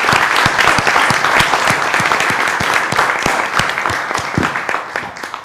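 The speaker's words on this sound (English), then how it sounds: "give you a big round of applause" An audience at the close of a panel event day gives a big round of applause: loud, dense clapping with sharp individual claps standing out, sustained throughout and tapering near the end.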